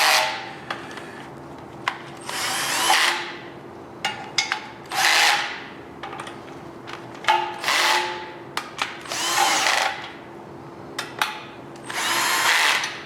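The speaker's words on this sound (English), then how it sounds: "So I have my little electric screwdriver here, and I have it on a very low setting, so it clutches out very early" Electric screwdriver on a low clutch setting driving windage tray nuts on a 5.3L LS LM7 V8, several short whirring bursts separated by pauses, close and fairly loud.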